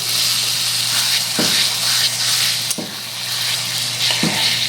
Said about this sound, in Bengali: পেঁয়াজের সঙ্গে 3 মিনিট আমি আদা রসুন কাঁচা লঙ্কাটা কষে নিয়েছি